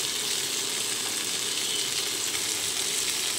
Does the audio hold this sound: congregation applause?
no